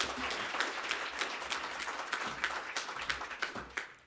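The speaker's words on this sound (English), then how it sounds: "please give a warm round of applause to the Chief Executive Officer and our host for the Biomass Fair" An audience at the Standard Biomass Fair 2022 conference applauds the Chief Executive Officer and host, a steady, moderately faint round of clapping with distinct individual claps rising and falling over a few seconds.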